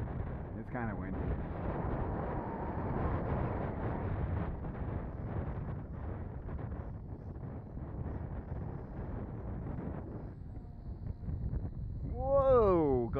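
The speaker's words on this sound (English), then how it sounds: "It's kind of windy." Strong wind buffets the microphone outdoors at a model airplane flight over a canyon, a continuous low roaring rumble, with a person talking underneath and a rising whine near the end.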